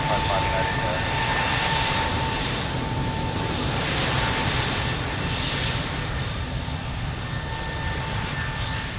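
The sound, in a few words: airliner taking off at Lisbon Airport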